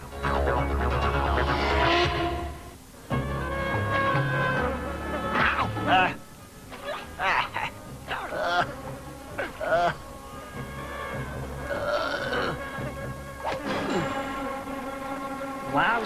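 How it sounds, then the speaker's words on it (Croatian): Cartoon insects and mosquitoes buzz around a swamp in whining, droning bursts that rise and fall, fairly close. Other tonal sounds and effects mix in. "Dosadni insekti."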